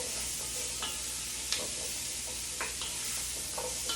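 Food sautéing in a Dutch oven for pot roast, a steady close sizzle with a few faint spoon scrapes scattered through it and no voices.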